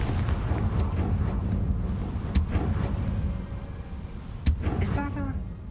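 A Confringo spell in Hogwarts Legacy fires off, with a few sharp blasts punctuating a dense rumbling game soundscape; a brief burst of noise follows near the end.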